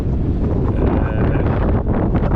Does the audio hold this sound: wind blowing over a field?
yes